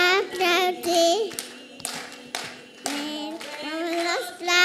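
Rhythmic hand clapping fills a church praise song, sharp claps landing in a steady beat beneath children's and adults' singing voices, close and fairly loud.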